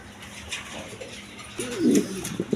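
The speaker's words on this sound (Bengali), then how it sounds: "এটা হলো আর্ট এঞ্জেল কবুতর ইরানি কবুতর" Iranian art angel pigeons coo close by, one low warbling burst swelling midway through the short stretch over a faint background hiss.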